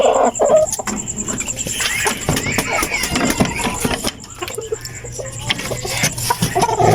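Hatch gray and Boston gamefowl chickens cluck and cackle nearby in a backyard flock, busy overlapping calls throughout, with a person talking underneath.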